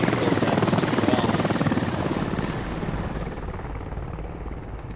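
A helicopter flies in the military video game Squad, its rotor beating in a loud, rapid, steady chop with a whining engine tone overhead, fading slightly toward the end.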